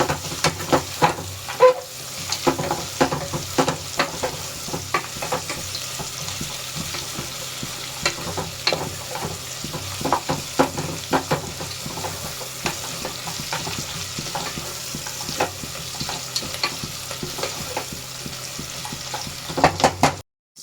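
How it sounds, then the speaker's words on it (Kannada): Onions deep fry in a pan for country-style chicken biryani, giving a constant bubbling sizzle with frequent clattering stirs against the pan throughout, no talking. "ಸ್ವಲ್ಪ ಡೀಪಾಗಿ ಫ್ರೈ ಆಗಬೇಕು ಈರುಳ್ಳಿ"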